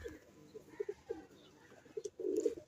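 Domestic pigeons coo softly close by, a handful of short, throaty low coos spaced irregularly, ending in a longer rolling coo, against a quiet background.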